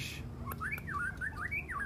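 A white-rumped shama whistles a rich, looping melody of rising and falling phrases, close and clear over a low steady hum.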